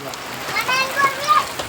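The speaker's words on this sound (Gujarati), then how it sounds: "જો કે એટલો વરસાદ ચાલુ થઈ ગયો છે" Steady rain patters down with a soft hiss and light splashes, while children's voices sound faintly in the background.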